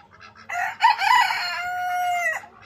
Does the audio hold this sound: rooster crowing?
yes